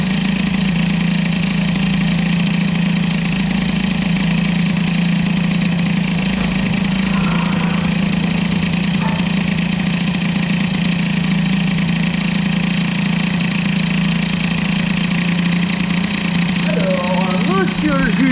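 Peugeot 103 moped with a 65 cc Airsal air-cooled kit, its two-stroke engine running steadily at a loud, buzzing, close idle without letup, with a brief revving flutter near the end.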